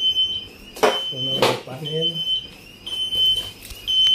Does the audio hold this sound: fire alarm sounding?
yes